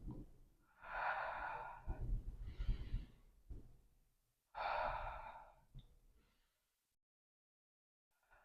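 Deep breathing during a yoga exercise: two long, audible inhale-exhale cycles, each breath close and breathy, separated by quieter pauses and ending in near silence.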